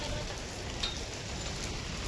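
Steady rain hisses down in a continuous, even wash of noise, with no voices or other distinct sounds.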